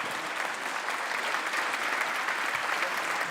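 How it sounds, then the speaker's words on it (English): An audience applauds panelists at the close of a panel discussion on Europe's energy transition: full, continuous clapping from many hands, steady and fairly loud throughout. "Please do join me in a round of applause for our fantastic panelists."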